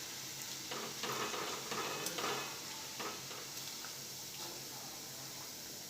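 Farali bhajiya fritters frying in hot oil, a soft continuous sizzle with light scattered pops and occasional stirring clinks from a pan, fairly faint and without talk.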